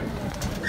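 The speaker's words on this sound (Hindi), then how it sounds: "ये माशाल्लाह लक्का कबूतर है" A lakka (fantail) pigeon gives a soft, brief coo close by, heard alone in a single short call.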